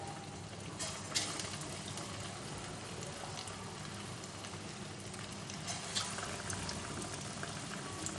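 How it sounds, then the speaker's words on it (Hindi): Fish deep frying in hot oil over a low flame, a steady bubbling sizzle that runs throughout at even loudness with faint crackles and pops, no voices. "अब हम फ्राई करते हैं, डीप फ्राई।"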